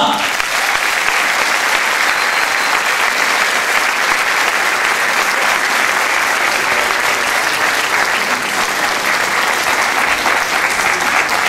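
An audience applauds continuously at a stage event in Türkiye, a dense, loud, even wash of clapping that fills the whole stretch with no break.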